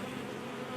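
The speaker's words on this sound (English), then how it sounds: "You can see how many bees are down in on the other side of the queen excluder." Honey bees hum in a steady, dense drone during a beehive inspection, a brief close buzz with no voices.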